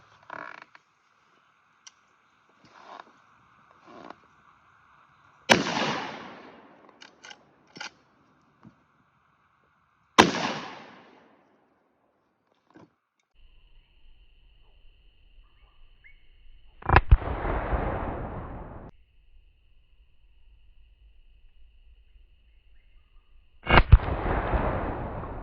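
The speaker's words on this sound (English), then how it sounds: "for the penetration test, we have a cinder block we're going to shoot." A .30-30 rifle fires at a cinder block in a penetration test: four loud, sharp reports spaced several seconds apart, each with a short decaying tail, with faint clicks and handling noise between them.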